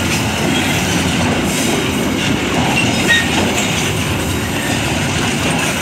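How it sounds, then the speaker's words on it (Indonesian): A freight train hauling cement containers rolls past up close, with a loud, steady rumble of wheels and rail clatter that lasts the whole stretch and has no voices over it. "Kereta api kontainer membawa semen."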